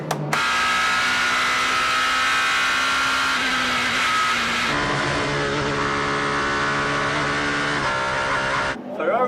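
A Ferrari race car at the 6 Hours of Spa blares in a loud, sustained engine note that holds steady, then shifts pitch partway through, with the roar running nearly the whole time before cutting off at the end.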